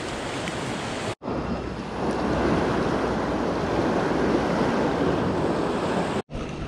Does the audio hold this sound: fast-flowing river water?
yes